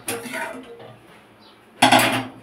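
Metal lid set down over a cooking pot of thin fish curry with potatoes and drumsticks, heard as two clattering metallic knocks at start and end, close and fairly loud, with no talking.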